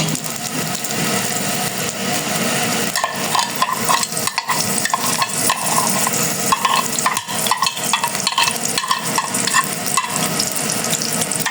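Onions sizzle steadily in hot oil for chicken biryani, with a loud, continuous fry and stirring scrapes throughout, close up and with no voices.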